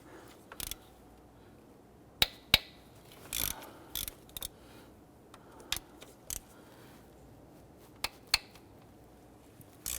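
A hand ratchet works on 10mm intake manifold bolts of a 4.0L V6 Nissan Frontier, sharp isolated clicks and clacks at irregular intervals, close and clear over a quiet background.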